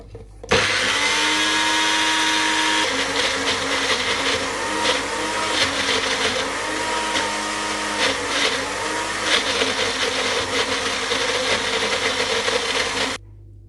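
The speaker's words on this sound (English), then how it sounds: "Okay, so just gonna blend it now." A kitchen blender whirs steadily and loudly for about twelve seconds, blending chicken kabab ingredients, its motor drone holding even with slight pitch wobbles before cutting off abruptly.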